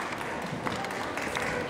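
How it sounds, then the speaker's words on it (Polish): A brief burst of audience clapping at a Polish Christmas carol concert, steady and fairly dense, with many hands applauding together. "Brawa!"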